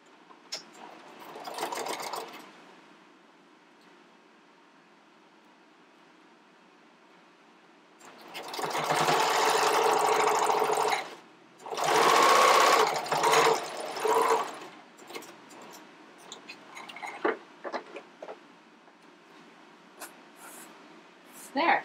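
A domestic sewing machine top-stitches the lower binding of a bikini top, running in a few bursts of different lengths with quiet gaps between them.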